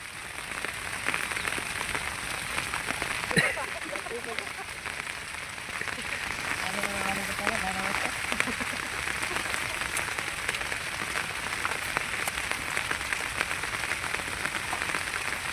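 Steady rain pours over a chili plot of the Ankur 930 variety during harvest picking. It makes a dense, even patter throughout, with faint voices briefly audible in the middle.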